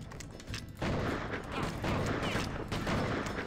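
Gunfire in the western video game Outlaws: dense bursts of shots and booms crowd together in a loud, continuous barrage that keeps going without letup.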